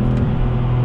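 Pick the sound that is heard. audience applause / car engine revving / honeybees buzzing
car engine revving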